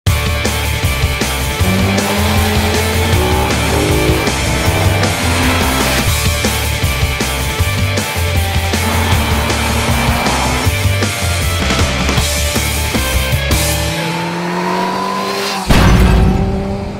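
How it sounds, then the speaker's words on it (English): KTM SMC 690 supermoto motorcycle being ridden hard on the road, its single-cylinder engine loud and close, revving up and down through gear changes in a steady series of rising pulls with heavy wind noise. "my review of the KTM SMC 690, one of the most insane bikes I've ever ridden. It's a supermoto machine meant for the road"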